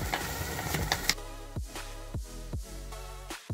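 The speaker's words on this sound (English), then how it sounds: "I fashioned this rock smoother out of a beans can and a toy motor" Homemade rock tumbler built from a beans can and a small toy motor, turning out aluminium powder: a steady low motor hum with a repeating scraping rattle about every half second, close and moderately loud.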